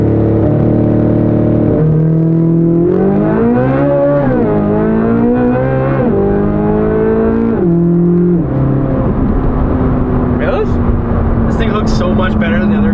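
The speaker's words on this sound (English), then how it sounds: "we're gonna do a little launch here and see how this feels compared to the launch in the other car" A Chevrolet Corvette C8 Z06 launches hard from a standstill, its engine roaring loud and close as it climbs through several gears with clear shift breaks, then settles into a steady drone while people talk over it.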